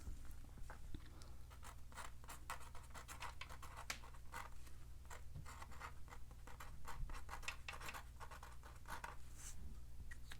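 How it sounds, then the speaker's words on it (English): Pen writing a birthday greeting on a handmade DIY birthday card: quiet, scratchy strokes in quick irregular bursts over a steady low hum. "And then here on the bottom we can write happy birthday."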